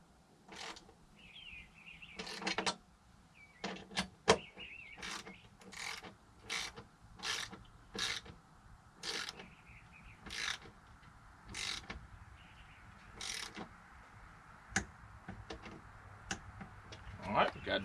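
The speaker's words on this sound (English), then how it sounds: "we're gonna get our ratchet" A ratchet clicks in quick bursts while it tightens bolts on a Harley-Davidson tour-pak rack. The rapid close clicking is repeated many times with pauses between the runs, and voices murmur faintly in the background.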